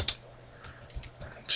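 Computer keyboard being typed on while entering a ping command, a short burst of close, crisp key clicks at an uneven rhythm.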